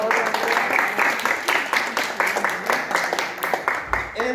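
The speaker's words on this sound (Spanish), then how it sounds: "Aplausos por favor" Audience applause for winners at a robot competition in Lima, a steady run of clapping with sharp individual claps standing out over several seconds, fairly close and mixed with a little crowd noise.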